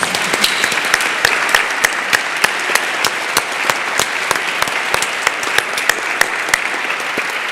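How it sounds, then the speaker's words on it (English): A large live audience at the Nobel Conference applauds its panelists and conference speakers, with loud, sustained crowd clapping, sharp individual claps popping out of the dense wash throughout, and no speech over it. "Let's give them a round of applause."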